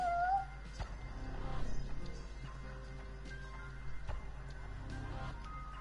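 A cat meows once near the start, a short rising cry, followed by quieter background sounds with a low hum underneath.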